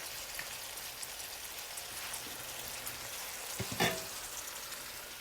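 Vegetables sautéing in a pan for hamburger beef soup, a steady soft sizzle and crackle, fairly quiet, with one brief stir or clatter near the end.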